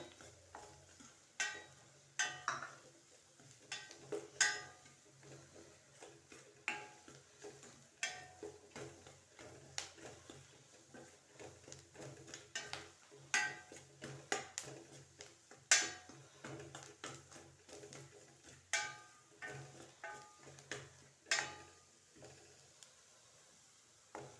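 Chili powder, coriander powder, garam masala and turmeric frying in a pan for mushroom gravy, with a steady soft sizzle and repeated light scrapes and taps of a spoon stirring, no voices.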